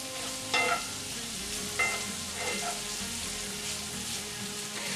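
Sweet potato stir fry sizzles steadily in a pot, with a few brief clanks of stirring breaking through the constant hiss.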